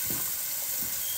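Boiled chickpeas sizzle in browned masala for an egg and chickpea curry, a steady close frying hiss with faint stirring underneath.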